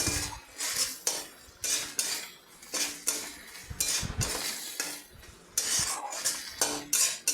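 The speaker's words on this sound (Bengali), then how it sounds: "ভালো করে মশলাটা কষিয়ে নিচ্ছি" A metal spoon scrapes and clinks rhythmically against a pan while spice masala with tomato, a little sugar and asafoetida is stirred and sautéed, with close, repeated strokes throughout.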